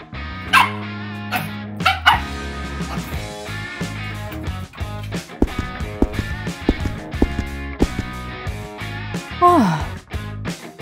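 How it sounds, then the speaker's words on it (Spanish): A dog barks and yips in a home amid loud music or a show with bright tonal sound, sharp bursts scattered through, a voice speaking now and then. "¿Pero a ti qué te pasa? ¿Por qué ladras tanto?"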